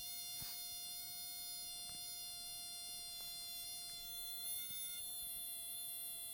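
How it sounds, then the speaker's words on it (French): A small Action-brand electric screwdriver motor whines with a thin, steady high-pitched buzz like a mosquito, faint but continuous, with a few light clicks. "c'est le tournevis action."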